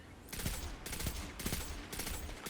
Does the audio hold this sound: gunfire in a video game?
yes